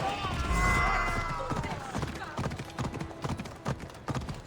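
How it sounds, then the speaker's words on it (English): Rhythmic hoof clip-clops of a trotting horse in the video game Assassin's Creed Odyssey, fairly close, with a tonal musical swell early on and sharp transient hits throughout. "I need to take this horse either to Adonis or to the stable boy"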